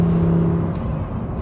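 A 2018 Lamborghini Huracán Performante's 5.2-liter mid-mounted V10 engine hums and revs with a steady, tonal drone, loud and close, with no talking.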